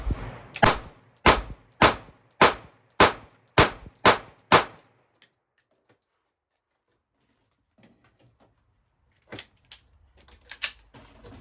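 Eight sharp, loud reports from a 10mm handgun come in an even, rapid string during a range test, then silence, then faint handling noises and a couple of distant clanks.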